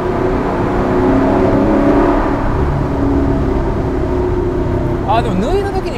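A Dodge Challenger's engine drones loudly nearby with a sustained throaty roar that swells while driving, and a brief tonal swoop near the end.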